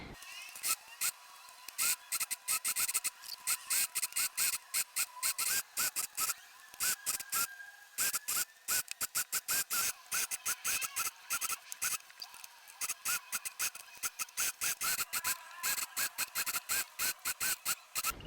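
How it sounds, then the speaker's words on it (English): Sewing machine and overlocker stitching seams on cushion covers made from upcycled fabric scraps, rapid bursts of mechanical chattering and whirring in stop-start runs, close and fairly loud throughout. "So I'm just gonna sew those all together and overlock them"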